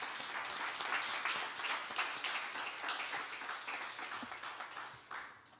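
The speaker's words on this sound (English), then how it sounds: "I actually think our team, as well as yourselves, deserve a round of applause for that today" Attendees at an Atlanta Housing board of commissioners meeting give a round of applause, a soft, fairly distant patter of clapping hands that carries evenly and then tapers off near the end.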